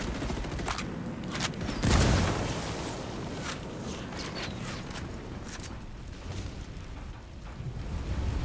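A frag grenade explosion in the video game Ghost Recon Wildlands, a heavy boom that swells briefly amid ongoing scattered gunfire and rumbling battle noise.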